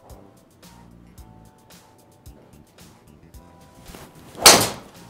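A TaylorMade Qi10 Max driver with a custom shaft strikes a golf ball at a Hokkaido course, giving one sharp, loud impact near the end after a stretch of quiet background rumble.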